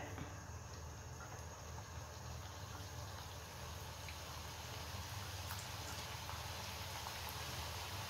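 Pieces of unnakkaya frying in hot sunflower oil, a faint, steady sizzle and crackle of bubbling oil running throughout with no talk.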